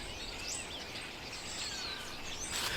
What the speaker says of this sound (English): the birds are having a party in this tree.